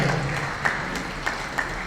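Audience applause at an agricultural seminar on natural sugarcane farming held at Sardar Vallabhbhai Patel Agricultural University, a steady, moderately loud patter of many hands clapping with a few sharper claps standing out.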